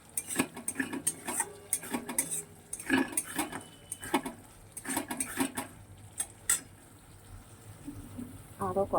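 Spice paste sautéed and stirred in a pot over a low gas flame, with repeated scraping and clinking of a spoon against metal and a soft sizzle, irregular and close.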